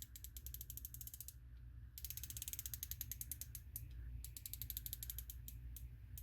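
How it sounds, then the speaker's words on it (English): A SIG Juliet Micro 3x magnifier's windage and elevation turret gives rapid runs of small, crisp, close clicks, with a short pause between bursts of turning. "nice solid clicks. Requires a decent amount of force to turn it."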